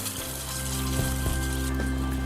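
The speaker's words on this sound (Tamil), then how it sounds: "தாளிச்சதை தூக்கி பச்சடியில் ஊற்றிக்கிறேன்." A hot tempering is poured into an eggplant and tomato pachadi, giving a steady bright sizzle with a few soft stirring clinks, close and continuous with no talk.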